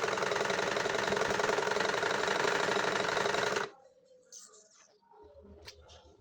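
A sewing machine stitches the side slit of a kameez with a fast, steady mechanical clatter for nearly four seconds, then stops abruptly, leaving faint room noise and small clicks.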